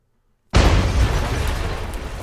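An incendiary bomb from the Minecraft ICBM mod bursting after near silence, a loud sudden blast that settles into a sustained roaring rumble of flames, close and without talk.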